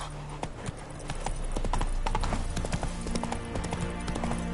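Horse hooves clip-clop in a rapid galloping rhythm in The Witcher video game, steady and close, continuing throughout at moderate loudness.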